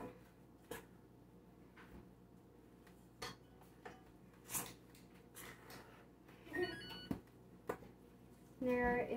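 A utensil stirs dairy-free, gluten-free chocolate chip cookie dough in a bowl, with scattered soft clinks and scrapes against the bowl and a busier clatter near the end, all in a quiet kitchen.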